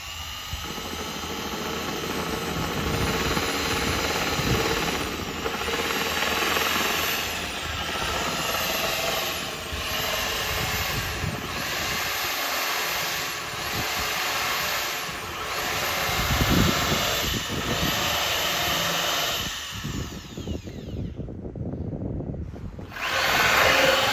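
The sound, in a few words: drilling a large hole through boat hull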